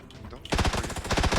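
Automatic gunfire in the battle royale video game PUBG erupts after a quiet half-second, a loud, rapid string of shots that continues steadily to the end.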